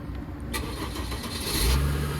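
A flood-damaged salvage car's engine cranks over with a few ticking turns, then catches and settles into a low rumble toward the end, fairly close and moderately loud.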